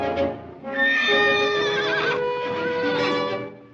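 A stallion gives a loud, close whinny with a shaky rising and falling pitch, lasting a few seconds and heard alone without talk.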